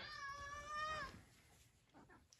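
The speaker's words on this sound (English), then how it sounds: "She's been meowing constantly." A cat gives one drawn-out meow, close and clear, followed by faint background sounds.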